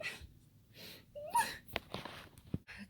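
A person breathes hard after voguing in their room, with several quick, close, breathy gasps and huffs that rise and fall unevenly in a quiet indoor space.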